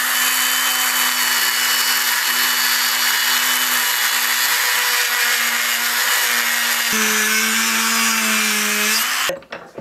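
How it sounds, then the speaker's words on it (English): Dremel rotary tool cutting a shallow slot into a balsa wood lure body, a steady high-pitched whirring grind that holds level for about nine seconds, dips in pitch briefly, then cuts off abruptly near the end. "I'm gonna cut it with a Dremel tool"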